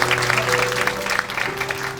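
Wedding guests at a house-style wedding hall in Incheon clap together in sustained, dense applause, loud and even across the whole stretch, with a faint steady tone humming beneath the crowd noise.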